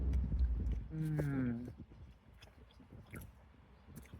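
Someone bites into a big, crunchy Del Taco tostada, giving a few close, crisp crunches and chewing sounds, with brief talk at the start.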